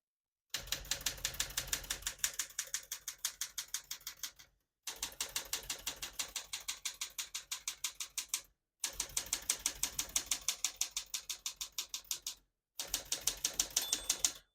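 A 1975 Smith-Corona Galaxie 12 portable typewriter types in rapid, even bursts of crisp keystrike clacks, with four runs of typing broken by short pauses, close and clear with no voices.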